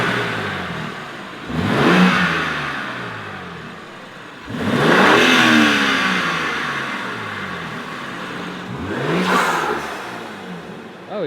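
BMW M2 G87 fitted with front mount intakes, the engine revving hard in three separate bursts that climb and fall back between them, loud and close with no talking.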